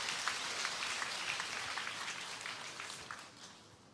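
Audience applause welcoming a lecturer onto the stage at a seminar, a dense steady clatter of many hands clapping that holds for several seconds before thinning slightly at the end.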